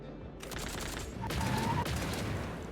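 Gunfire from the turn-based video game Fogpiercer rings out as a sustained, loud burst of shots layered over a steady background, peaking in the middle and tapering off.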